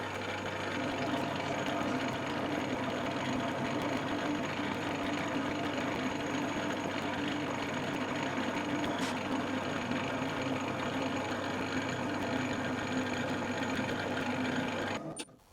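Lathe taking a spring pass on a spindle body for a Quorn Mk3 tool grinder, a steady close mechanical hum with a faint chattering buzz from the cut, running evenly to the end without talk.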